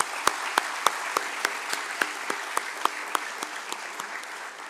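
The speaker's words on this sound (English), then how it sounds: "thundering round of applause" Regular, evenly spaced sharp claps at a Tata Chemicals 75th anniversary celebration welcoming board members, sounding like a single close clapper rather than a full crowd, steady in rhythm and fading slightly toward the end.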